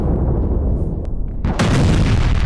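Israeli strikes on a Hezbollah weapons depot in Lebanon, heard as a loud, continuous low rumble of blasts and gunfire-like cracks, with a sharp, heavier burst partway through and sustained roaring after it, close and with no voices.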